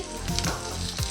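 Chopped onion and chili hit hot oil for a paneer roll, giving a loud, steady sizzle with a couple of brief stirring scrapes, close and continuous with no talk.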